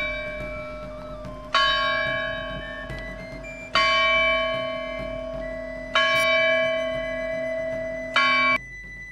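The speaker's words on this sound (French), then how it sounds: "La lourde cloche, pesant 200 kg, possède un timbre métallique bien sonore." A heavy 200 kg bronze bell in a campanile tower rings four times at an even pace, each loud metallic strike followed by a long, bright, humming decay.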